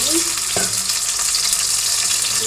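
Onions frying in oil in a pan make a loud, continuous hiss and crackle, close up, with a brief clatter of stirring near the start and no voices.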